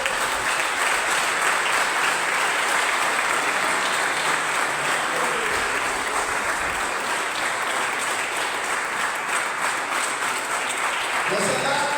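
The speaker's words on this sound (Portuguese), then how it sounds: "Vamos aplaudir Jesus." A church congregation applauding during a worship service, loud continuous clapping from many people held at an even level throughout, with voices mixed in underneath.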